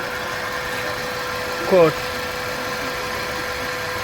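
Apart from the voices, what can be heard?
2007 Kia Sportage engine idling and vibrating with misfire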